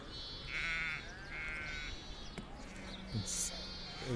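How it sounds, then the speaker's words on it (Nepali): Sheep wander and bleat in a snowy Romanian field, several wavering cries in a row at moderate distance, with some voices and shuffling noise in between. "भेडा कराएर घुम्दैछ"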